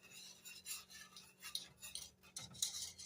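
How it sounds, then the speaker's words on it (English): Vanilla pudding ingredients in a pot being stirred, quiet close scraping and rubbing of a utensil against the pan in uneven strokes. "So let's stir that real good."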